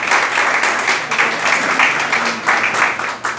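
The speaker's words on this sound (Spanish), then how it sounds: "quiero pedirle a la congregación que le demos un fuerte aplauso a las personas que hoy nos" A church congregation breaks into loud, sustained applause that fills the room, a dense wash of many hands clapping with no break from start to finish.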